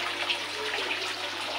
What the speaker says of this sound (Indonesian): maka pompa sirkulasi menyala